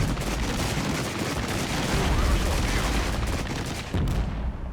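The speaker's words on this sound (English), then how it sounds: "That is DPICM, and it hurts." DPICM cluster munitions bursting in the video game Regiments, a continuous loud barrage of overlapping explosive cracks and rumbling booms that keeps going until near the end.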